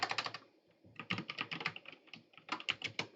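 Brisk typing on a computer keyboard, rapid clusters of crisp key clicks with short pauses between bursts, close and fairly quiet, with no voice.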